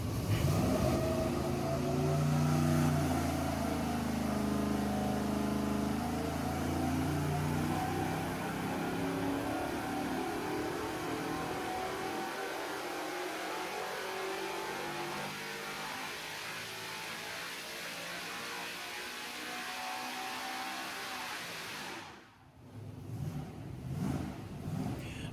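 Chevrolet LS engine on a dyno with Summit cams, revving toward 7,500 rpm, a loud, dense engine drone with shifting harmonic tones that fades and thins, then cuts briefly before a rougher restart.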